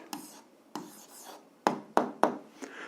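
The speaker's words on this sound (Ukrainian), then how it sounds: "Ну що ж, записуємо відповідь, пишемо відповідь" Pen strokes on paper while an algebra answer is written out by hand, a few faint, close, separate scratches and taps.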